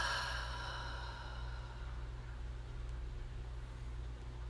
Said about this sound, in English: take a deep, deep inhale and bring some life back into your body. Exhale it out through the mouth.